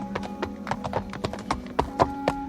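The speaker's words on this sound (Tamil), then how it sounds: "அந்த நதி தீரத்தின் ஆழ்ந்த அமைதியை கலைத்துக் கொண்டு குதிரை குளம்படியின் சத்தம் கேட்டது" Horse hooves clop on hard ground in a steady, rhythmic series of sharp strikes, moderately loud and close, with no speech over them.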